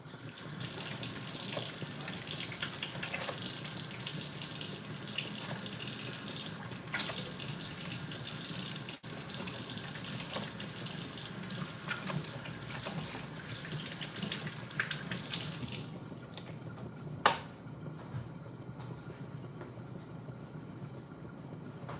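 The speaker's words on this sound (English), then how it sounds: "I'm just gonna wash my hands." Water running from a kitchen tap while hands are washed, a steady moderate stream that shifts in tone as hands move under it, then cuts off near the end with a brief clunk.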